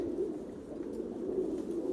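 Pigeons coo in a low, continuous murmur, the soft throaty calls repeating steadily and close, with no voices over them.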